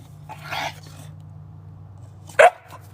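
A pet dog, likely a puppy, makes a brief whiny vocalization, then a sharper yip-like sound about two seconds later, close and loud over a low steady hum, with no talking.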